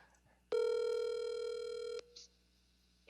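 During a church youth group's radio-style broadcast, a telephone call produces a single steady ringing tone that holds for about a second and a half, clear and close, then cuts off abruptly, with quiet room sound around it.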